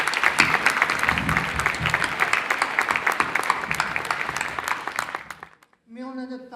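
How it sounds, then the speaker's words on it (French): Warm, sustained applause from the opening-night audience of the Vues d'Afrique international film festival, dense clapping that fades out toward the end before a voice starts speaking. "Applaudissez-les très chaleureusement"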